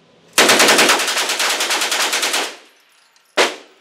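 An Uzi 9mm submachine gun fires a long rapid burst of about two seconds at an indoor shooting range, then a single short shot follows after a pause, loud and close.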